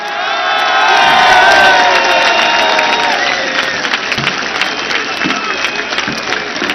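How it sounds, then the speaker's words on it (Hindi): Large rally crowd for Imran Khan in Pakistan cheering, whooping and clapping, a loud swell of voices and shouts that peaks early and then gives way to rhythmic, steady applause. "हाथ उठाकर तालियों की गूंज में बताइए कितना प्यार करते हैं आप इमरान खान से"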